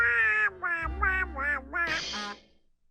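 A man imitates the quacking Donald Duck voice, giving a quick string of four or five nasal, buzzy squawked syllables followed by a higher, raspier burst that trails off, close and clear.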